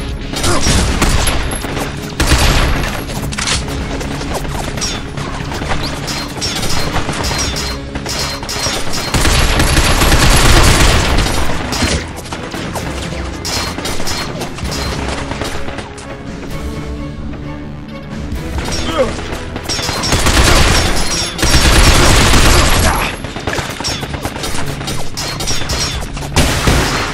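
Sustained machine gun fire in the video game Binary Domain comes as loud, dense, rattling bursts that swell and ease in waves, mixed with crashes and booms of a firefight.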